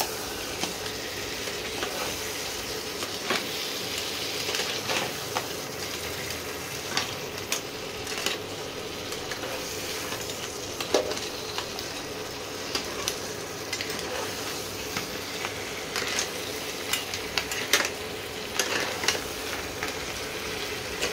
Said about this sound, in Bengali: ভালো করে মশলার মধ্যে এগুলো কষাবো।